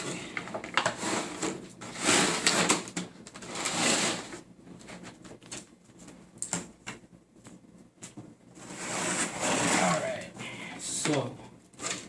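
A taped-up cardboard box holding an RC helicopter is sliced open, giving several sharp scraping and tearing bursts, some near and loud, separated by quieter handling noises.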